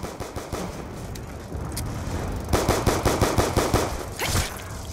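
Gunfire in Call of Duty: Black Ops 2 zombies mode: scattered single shots at first, then a fast rattling automatic burst that ends in a few sharp final shots, close and loud, with no voices.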